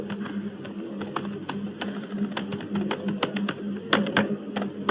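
Rapid clicking of computer keyboard keys as a command is typed into a command prompt, irregular bursts of close, crisp taps over a steady low hum.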